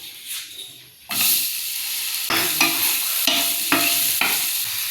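Raw plantain pieces frying in ghee in a pan for a Christmas cake, a steady loud sizzle broken by repeated scraping stirs of a spoon, close up with no talking.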